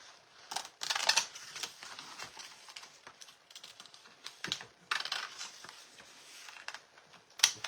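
Blade snipping and scraping through a stencil sheet during a craft stencil and transfer project, close and intermittent, in bursts of quick crisp cuts with brief pauses between them.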